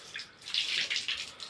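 Cold water running from a tap in the kitchen area of an old village house, a steady close splashing stream with slight fluctuations.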